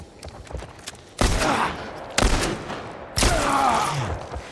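Three loud gunshots ring out in The Last of Us Part I, evenly spaced about a second apart, each a sharp crack trailing into a booming echo over quiet ambience.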